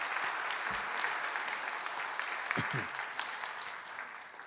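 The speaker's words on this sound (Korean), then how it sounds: "다시 한번 박수 한번 해주셔요" A church congregation at Sunday worship applauds two new members, with steady, fairly soft clapping that carries on for several seconds and has a few low thumps in it.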